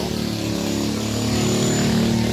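A long-tail boat motoring along the Phasi Charoen canal behind a temple during a Loy Krathong festival, its engine a steady, loud, close drone with a rising rumble as it passes, no talking.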